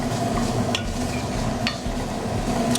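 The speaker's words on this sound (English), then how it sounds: "we're going to sweat down our onions and our garlic first" Onions and garlic sweat in a pan with a low continuous sizzle, broken by occasional light clinks and scrapes of a utensil.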